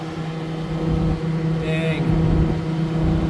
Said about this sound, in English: I gotta shut the tractor back off. It's starting to whine because it's low in oil